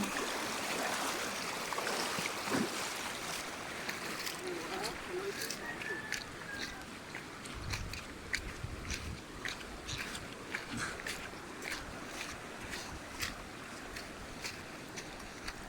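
Flowing stream water runs steadily outdoors, a broad continuous wash with small trickling splashes, while people talk casually over it throughout.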